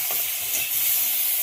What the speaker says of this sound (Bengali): এখানে ঝিঙ্গা ভাজি বসিয়ে দিলাম